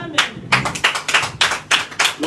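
A church congregation claps in rhythmic bursts during a French-language worship service, loud, close and evenly spaced.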